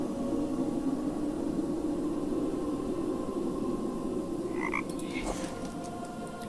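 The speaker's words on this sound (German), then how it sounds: "Der 41. Frosch." Frog croaking in the video game Raincliff, a dense continuous chorus of croaks over a hissing background, with a few brief higher chirps near the end.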